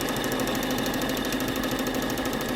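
A sewing machine runs steadily after being switched on, giving a close, continuous mechanical whir with fast rhythmic ticking and no pauses.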